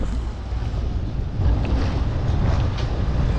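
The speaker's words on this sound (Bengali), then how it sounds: "আর এখানে এত পরিমাণে বাতাস এত পরিমাণে বাতাস" Strong wind at a riverside ghat in Dohar near Dhaka, heard as a continuous, loud rushing roar buffeting the microphone and growing stronger partway through.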